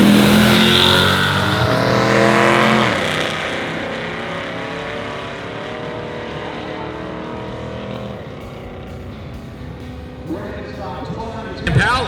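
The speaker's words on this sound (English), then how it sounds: "Will stage up against the 6th gen Camaro of John Waggle." Drag racing cars idle and rev loudly while a 6th gen Camaro stages up at the strip; dense engine rumble with harmonic revving fills the track, easing slightly after a few seconds, with crowd noise and announcer-style talk underneath.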